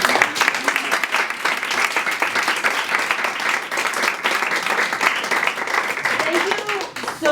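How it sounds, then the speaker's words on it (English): A room full of people claps at a dance event, with steady, moderately loud applause and distinct individual claps running throughout. "Give yourselves a round of applause."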